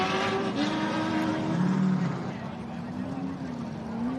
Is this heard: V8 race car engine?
yes